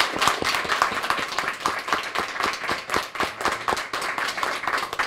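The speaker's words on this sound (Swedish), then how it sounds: "och så tycker jag vi ger Erik en stor applåd" Steady applause from a sizable crowd at a city hall lunch gathering, many hands clapping in a dense, continuous patter that holds for several seconds without voices.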